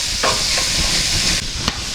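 Steady sizzling hiss of mirepoix vegetables sautéing in a pan for chicken noodle soup, with occasional stirring scrapes and crackles, close and continuous.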